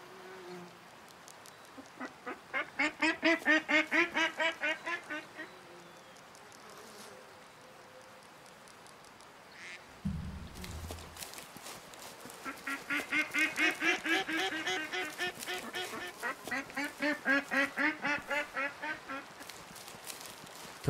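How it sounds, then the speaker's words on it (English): Wild ducks quack in the hunting video game Way of the Hunt, with rapid rhythmic bursts of calls in several rounds, loud and close, separated by quieter gaps and a brief thump. "Wild ducks."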